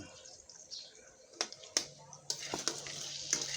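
Longanisa sausage frying in cooking oil in a pan while being stirred, with faint steady sizzling and a few sharp scraping clicks from the utensil.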